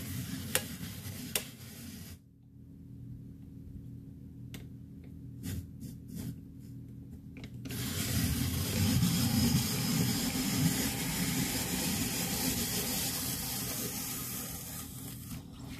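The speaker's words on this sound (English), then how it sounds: "then just crank it. This will peel it, and this cores and slices it." A hand-crank apple peeler, corer and slicer works through an apple: sparse mechanical clicks and ticks, then a louder, continuous scraping rasp of the blade cutting the peel, close by.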